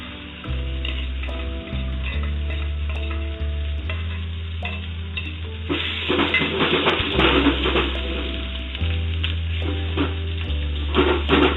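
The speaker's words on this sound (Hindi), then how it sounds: "ये प्यूरी को भी अभी हम 5 से 6 मिनट अच्छे से ऐसे भून लेंगे स्लो फ्लेम पे" Masala puree for dhaba-style dum aloo frying and sizzling in a pan over a slow flame, with steady stirring and spoon scrapes running throughout and a background tone underneath, no talk.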